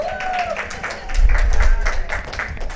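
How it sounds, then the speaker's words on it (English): An audience at a LinkedIn job-seeker workshop gives itself a round of applause, a scattered burst of clapping that swells midway, with some low thumping and a voice faintly present underneath. "give yourselves a round of applause"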